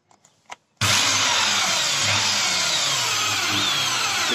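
A power drill set to normal rather than hammer mode, used while building a low-cost profile shed roof, starts abruptly after a brief pause and runs loud and steady at close range with no talk over it.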